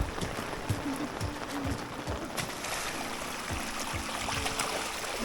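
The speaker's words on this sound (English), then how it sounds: "It's a river. And I've never seen this much rain." Floodwater outside a house after heavy rain, rushing like a river with a continuous watery wash and scattered splashy knocks, recorded close by without talk.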